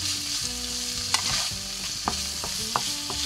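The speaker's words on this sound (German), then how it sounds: "Dazu kommt unser Bacon. Das Ganze braten wir kurz an." Small whole onions and bacon sizzle loudly in a frying pan, a dense crackling fry with occasional scraping stirs of a utensil, close and without talk.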